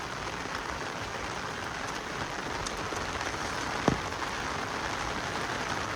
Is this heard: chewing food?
no